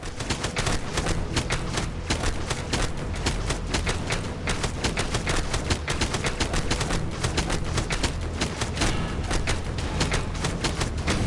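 Rapid, continuous turret gunfire from LEGO Marvel Avengers pounds away in dense, loud bursts of shots with booming thuds, filling the whole stretch with no pause.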